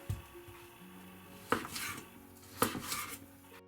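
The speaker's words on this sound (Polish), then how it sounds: "samo ozory też kroimy tak jak pozostałe wcześniej" A knife slicing cooked pork tongue into irregular pieces for black salceson, two sharp blade-on-board knocks with scraping between them, close and clear with no talking.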